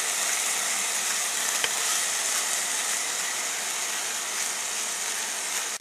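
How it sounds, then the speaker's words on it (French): Ginger and garlic sizzling in a pan with rice, a steady loud crackling hiss that holds evenly throughout with a faint clink of stirring, no talking. "On fait revenir quelques instants le gingembre et l'ail."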